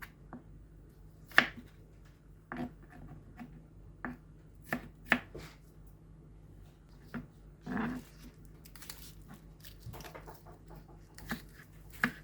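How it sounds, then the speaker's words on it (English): Knife chopping green beans and carrot into small cubes on a cutting board: sparse, irregular sharp taps, some louder than others, heard close and alone over a quiet background. "Cut them into small cubes."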